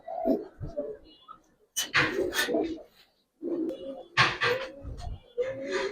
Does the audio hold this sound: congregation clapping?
no